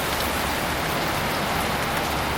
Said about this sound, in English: as you can see, it's a torrential downpour